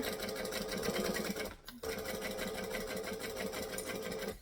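A sewing machine stitches steadily with a fast mechanical whir, pausing briefly midway before resuming as it runs over a thicker side seam, close and alone.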